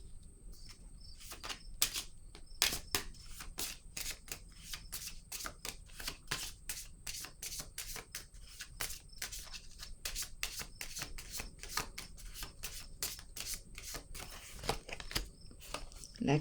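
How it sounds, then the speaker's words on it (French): Tarot cards being handled and laid down during a reading, producing a long run of sharp, irregular snaps and slaps over soft rustling and a faint steady hum, heard close and fairly quiet. "Je vais déposer une autre carte sur l'enfant."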